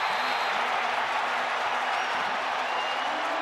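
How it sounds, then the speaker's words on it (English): Dense stadium crowd roaring and applauding after a Lamar Jackson touchdown run at an NFL game, a steady, loud wash of cheers holding at full volume throughout without letting up. "this crowd's already going crazy"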